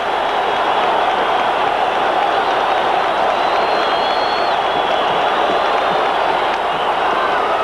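Stadium crowd at a 1980 World Series baseball game in Philadelphia, a steady, dense roar of cheering that stays unbroken throughout.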